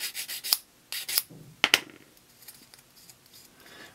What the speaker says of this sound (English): taking a sanding stick and giving it just a little bit of sanding